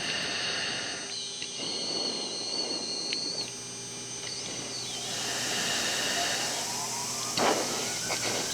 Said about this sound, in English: Now a real-time demonstration of the engine start.